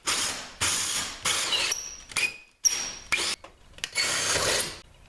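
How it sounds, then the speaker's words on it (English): Bursts of grinding, rasping drilling from a hole saw with pilot bit cutting into a fiberglass door start and stop repeatedly, each lasting about half a second to a second, close by and fairly loud. "we're going to drill through just until the pilot bit comes out on the other side"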